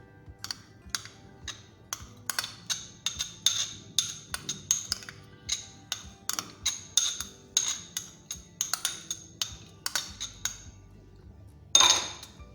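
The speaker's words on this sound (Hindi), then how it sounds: "ये डाल के पहले मैं इसको मिक्स करूँगी, अच्छे से मिक्स कर लेंगे इसको" A spoon clinks rhythmically against a bowl while ketchup and mayo garlic sauce are mixed together. The taps are close, bright and steady for several seconds, then a louder clatter ends the mixing.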